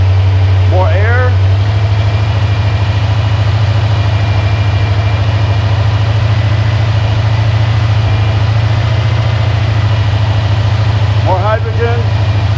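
Hydrogen-powered V8 engine idling steadily at 1500 RPM on a test stand, a continuous loud low drone with an even hum throughout, brief voices heard near the start and end.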